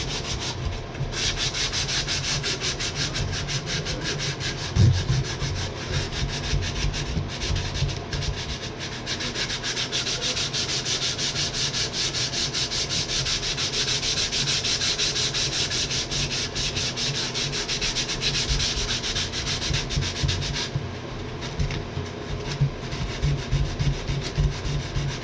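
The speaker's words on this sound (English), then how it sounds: "I'm not using a smooth sandpaper, I'm using a rough sandpaper" Rough sandpaper rubbing steadily across wood, a continuous close scratchy back-and-forth that runs throughout with a few brief pauses.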